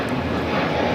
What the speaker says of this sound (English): They keep on bringing the nose of that plane up.